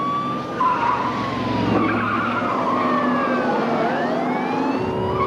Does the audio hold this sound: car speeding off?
yes